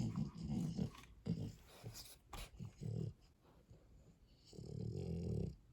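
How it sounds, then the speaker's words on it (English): Riot, a pet dog, snorts and grumbles in low, close, rough bursts, with brief pauses between and a longer growling rumble at the end. "He's a snotty dog."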